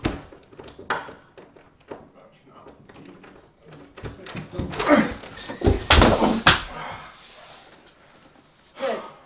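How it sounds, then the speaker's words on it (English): A door is worked open with a series of thunks, knocks and a rattle that build to a loud cluster near the middle, and voices speak around the noise. "You got the door open."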